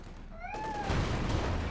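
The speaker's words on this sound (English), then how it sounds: "I'm sure you can hear the cat right now." A cat meows with a rising-falling tonal call lasting about half a second, clear and fairly close, over the dense rumble and gunfire of a Company of Heroes 2 tank battle.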